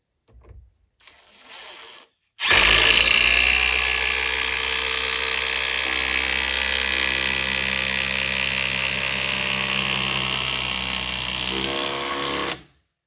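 A power driver sinks a screw through a fascia board into a 4x4, a close, loud high-pitched whine holding steady for about ten seconds after a couple of short blips, then cutting off abruptly.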